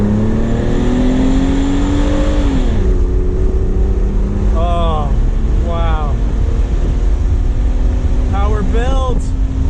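A 2001 Mitsubishi Eclipse Spyder engine drones steadily around 2,500 RPM in first gear, then revs hard and climbs through rising pitch in repeated surges, loud and close throughout.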